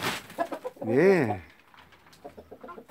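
Araucana chickens and a rooster in winter give one loud, drawn-out call near the start, then fainter clucking follows while a person briefly speaks.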